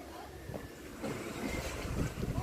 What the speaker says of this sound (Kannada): ಗಾಳಿ ಮಸ್ತ್ ಬಿಟ್ಟೈತಿ